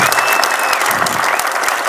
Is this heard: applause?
yes